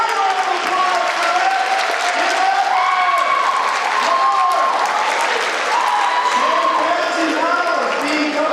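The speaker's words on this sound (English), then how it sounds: "Let's get a large round of applause for" An audience applauds a $10,000 donation at a high school Mr and Ms BHS event, with loud sustained clapping from a large crowd and scattered cheers as voices talk over it.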